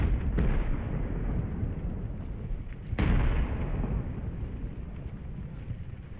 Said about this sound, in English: At last, the cannons have found them.